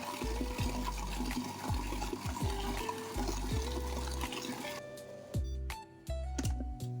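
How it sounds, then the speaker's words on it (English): Ice water pours and splashes into a Vietnamese sausage mixture for cha lua, a close, continuous wet trickle with bursts of liquid, then a few sharp knocks toward the end. "Now you'll add 2/5 of a cup of ice water, but even better if you use ice chips."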